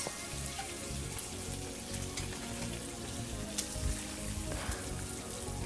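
Dal, green and red chillies, curry leaves and peanuts frying in a pan on low flame, a dense steady crackling sizzle throughout, close and fairly soft, no talk.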